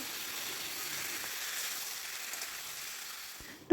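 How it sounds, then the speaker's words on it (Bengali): Ginger, green chili and tomato paste frying with papaya in a pan, giving a faint, steady high hiss of sizzling that stays even throughout, with a small clack at the very end. "এখন এই মশলাটাকে পেঁপের সাথে ভালো করে কষে নিতে হবে"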